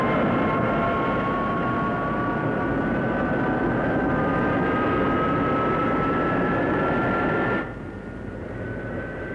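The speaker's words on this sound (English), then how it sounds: "This is the Messerschmitt 262, the world's first operational jet fighter." A Messerschmitt 262 jet fighter engine gives a steady roar with a thin, slowly rising whine on top. It drops slightly in level toward the end, and no voices are heard.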